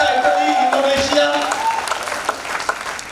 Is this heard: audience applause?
yes